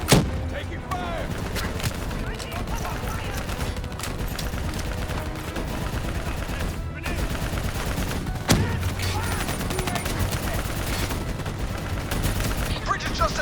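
Sustained gunfire in the Call of Duty: Black Ops 3 campaign during a bridge escape, with loud, dense automatic bursts and explosions running nonstop under shouted voices.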